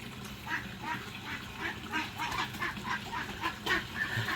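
A duck quacks in repeated short calls at a beach house building site in the Philippines, moderately close, with faint background noise and no clear speech.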